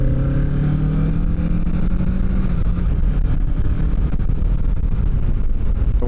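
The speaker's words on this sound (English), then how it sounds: "Let's hear this engine." A 2025 Kawasaki Ninja 650 motorcycle engine accelerating on the road, heard from the rider's position: a steady, loud engine drone rising in pitch, with wind buffeting the microphone throughout.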